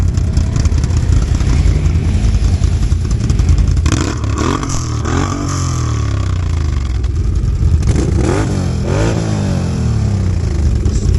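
Can-Am 1000 quad engine with a stock muffled exhaust revving up and down repeatedly, loud and close, a rough throbbing roar with rising and falling sweeps and mechanical clatter.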